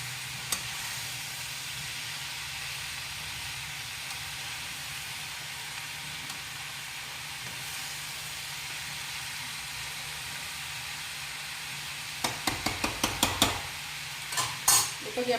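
Spiced vegetables frying in a pan on a gas stove, a steady soft sizzle running throughout, then a burst of sharp metal scrapes and clinks from stirring near the end.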